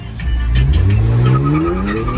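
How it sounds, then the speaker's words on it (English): A straight-piped Infiniti Q50 launches hard from a traffic light, its loud exhaust roaring as the engine revs climb steadily through the pull, close and dominant with no talk. "Give you guys a little launch at this light."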